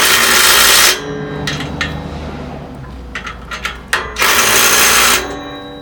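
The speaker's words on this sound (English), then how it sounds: "I'm gonna use the driver again. It's just quick to have this." A power driver tightening bolts on a rack assembly, with loud buzzing bursts of the driver running at the start and near the end, separated by quieter clicks and small metallic taps.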